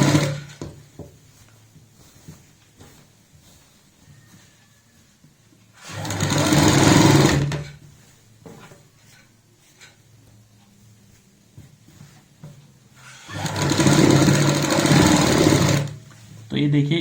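An electric sewing machine stitches palazzo pant fabric in two loud bursts of about one and a half and three seconds, separated by quiet handling noises and faint rustling.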